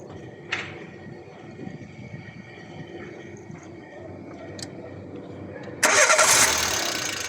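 A Peugeot/Citroën 106 Saxo semi-injection car engine turns over and catches abruptly, roaring loudly into a steady run after background noise and a couple of faint clicks.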